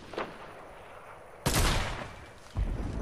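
Gunfire in the Fortnite battle royale video game: a faint early shot, then a loud, near burst of several rapid shots around the midpoint and another sharp burst at the end, with no talk.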